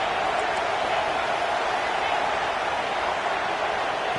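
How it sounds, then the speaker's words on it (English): Stadium crowd in a college football video game, CFB26, roaring during a red-zone defensive stand: a dense, constant wall of loud cheering with no letup. "And here comes the noise. This crowd is trying to inspire this defense to make a big red zone stop."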